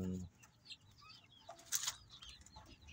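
Hinasil crossbreed chickens, a heritage and native cross, give soft scattered clucks and chirps at close range, with a brief wing flutter partway through.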